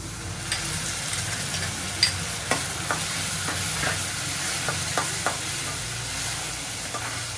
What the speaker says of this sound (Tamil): வெங்காயம் நல்லா வதங்கிருச்சு, இஞ்சி பூண்டுலாம் போட்டு பேஸ்ட்டு போட்டு